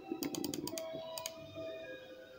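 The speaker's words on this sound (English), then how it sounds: "Let me try typing my name in." Someone types on a computer keyboard, a quick run of close, faint key clicks followed by a couple of isolated taps in a quiet room.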